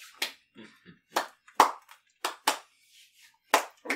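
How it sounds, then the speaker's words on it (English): Slow hand clapping during a tabletop role-playing game session, about eight separate claps spaced unevenly over four seconds, sharp and fairly close with quiet gaps between them. "It's a slow clap."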